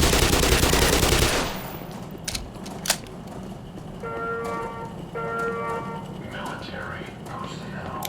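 A loud, fast burst of gunfire aimed at a barrel in Half-Life fills the first second and a half, followed by a couple of sharp clanks and a steady electronic beeping, with a voice talking.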